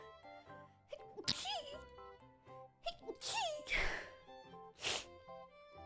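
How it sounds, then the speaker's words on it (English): A few sharp, breathy sneeze bursts break out one after another over soft background music. "I need to sneeze."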